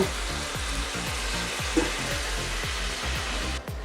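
Desi chicken sizzles loudly in a pan after a little water is added, a dense, continuous frying hiss with rhythmic low pulsing, close and alone without talk.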